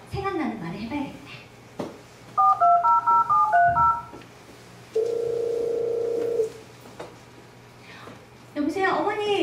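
A telephone keypad being dialed, a quick run of bright DTMF beeps followed by a steady dial tone lasting over a second, clear and close, with a voice speaking before and after.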